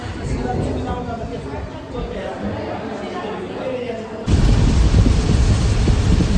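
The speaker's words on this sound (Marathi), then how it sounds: "मस्त पाऊस लागलेला आहे वाटेमध्ये." Rain and rolling thunder heard during a bus journey toward Kapildhara, a dense steady roar that swells abruptly louder partway through, with faint chatter mixed in.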